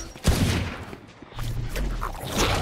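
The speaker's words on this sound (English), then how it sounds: "I shot my wingman." Gunfire in the Valorant shooter game during a team push, with several sharp shots and bursts in quick succession over continuous game noise, fairly loud and close.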